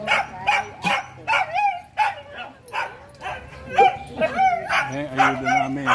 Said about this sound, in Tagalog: Dami yung aso, no?